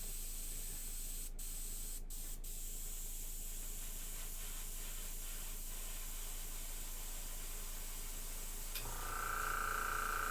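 An airbrush sprays paint onto a miniature model base, giving a steady broad hiss that runs for several seconds with small sputters, then turns into a louder, harsher blast near the end.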